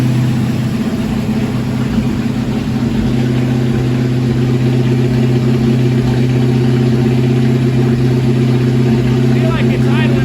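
A car engine idles steadily at close range and slightly high, a loud, constant low hum with a slight rough pulse, running without a break.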